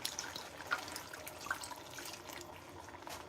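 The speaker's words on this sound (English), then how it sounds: "Add a little water." Water poured from a container into a pot of bear meat chili with diced and crushed tomatoes, a steady soft trickle and splash running continuously at moderate level with no voices.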